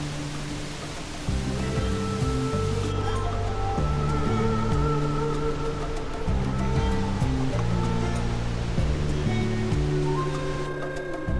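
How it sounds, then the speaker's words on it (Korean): Glacier meltwater waterfall pouring into a hidden lake in Patagonia, a steady rushing roar that continues throughout beneath music. "숨겨진 수시아 호수에 빙하가 녹은 물이 쏟아져 내리고 있었다."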